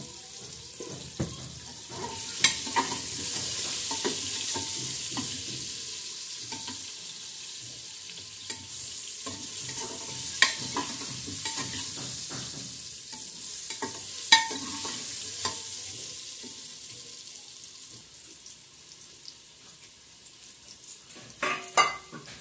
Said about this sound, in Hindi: आमी एकटु नून सामान्य आर एकटु सामान्य हलुद दिए भेजे नेब।